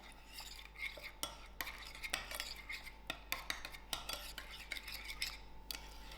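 A spoon stirs a thick tikka marinade in a bowl, giving a quiet, close run of irregular scrapes and clicks against the sides over a low steady hum.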